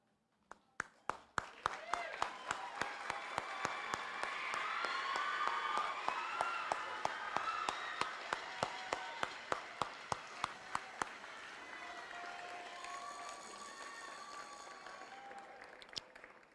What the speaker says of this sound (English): turn to the crowd and give them a standing